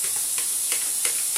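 Frozen mixed vegetables sizzling in a frying pan alongside chicken, a steady close hiss with faint stirring scrapes and occasional brief crackles, no talking.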